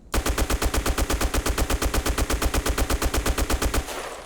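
Rapid automatic rifle fire in the Black Squad shooter game, a steady unbroken burst of loud, evenly spaced shots lasting nearly four seconds before cutting off into a short echo.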